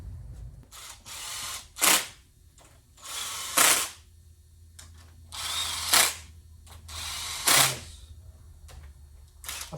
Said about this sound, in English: It's a nice little battery 1/4 inch or 3/8 drive ratchet.